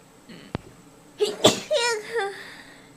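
A single sharp sneeze, preceded by a faint click and a short intake of breath, then a voice speaking briefly afterward, all close-up and clear.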